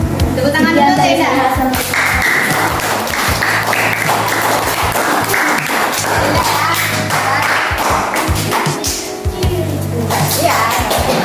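Children in a junior high classroom clap their hands, loud and close, with taps and thumps mixed in and children's voices talking over the clapping throughout.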